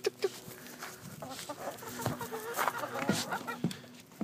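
Backyard chickens clucking and squawking in a busy, overlapping flock as scratch feed is scattered for them nearby, with sharp close calls over steady chatter and no talk.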